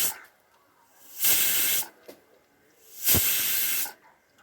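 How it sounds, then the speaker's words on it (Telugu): Chicken pakodi frying in oil on a medium flame gives two loud surges of sizzling hiss, each about half a second long, separated by quieter gaps. "ఈ విధంగా మీడియం ఫ్లేమ్లో పెట్టుకొని బాగా ఫ్రై చేసుకోవాలి"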